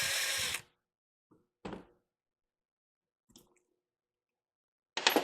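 A power tool works a bolt loose from the power steering pump of a Chevrolet Silverado, a short loud burst followed by a few faint clicks and knocks, then another burst at the end.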